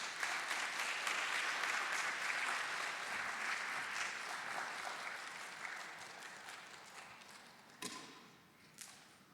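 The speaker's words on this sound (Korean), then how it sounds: "등단하실 때 큰 박수 부탁드립니다." An audience at a school admissions briefing gives sustained applause as the chairman takes the stage, a dense crowd clapping that slowly fades, ending with a couple of sharp thumps near the stage.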